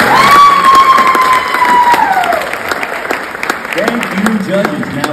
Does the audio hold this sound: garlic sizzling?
no